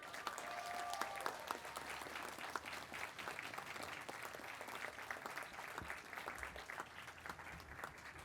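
Graduates at the Chelmsford graduation ceremony applaud their friends and family, a long, even wash of clapping filling the hall at moderate distance, with a few sharper claps standing out near the start.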